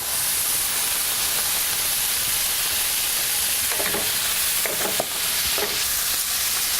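Cut tomatoes go into a hot pan for a chicken sweet potato noodle dish, and a loud, dense hiss of sizzling fills the clip, with a few stirring knocks partway through.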